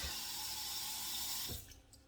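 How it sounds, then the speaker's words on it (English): About a quarter cup of water runs steadily from a kitchen tap into a pot for cooking cabbage steaks, a continuous broadband rush that stops abruptly near the end, leaving a few faint drips. "This is about 1/4 cup of water."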